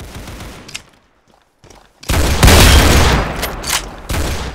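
AK rifle fire in the Roblox video game: loud, dense bursts of automatic shots after a quieter start, rattling on continuously with brief gaps and close to the listener.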